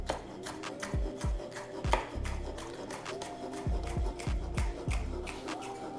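A kitchen knife slices vegetables into matchstick strips on a cutting board, with a series of distinct close knocks in irregular bursts and soft scraping between them.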